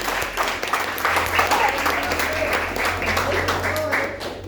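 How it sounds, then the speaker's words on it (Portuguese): A congregation at an Assembly of God service gives a round of applause, a steady crowd-wide clapping over a low hum, with voices rising within it. "E uma salva de palmas para o Senhor Jesus."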